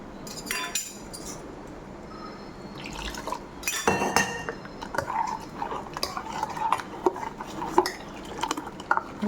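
A spoon clinks and scrapes around a bowl, stirring salt and turmeric powder into a wet mixture for an okra buttermilk curry, with repeated light taps and swishes, close up and steady.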